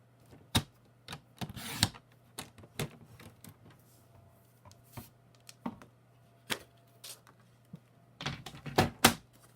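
A paper trimmer slices through cardstock in a series of crisp, irregular clicks and cutting strokes, quiet and close, with a few louder clusters and no talking.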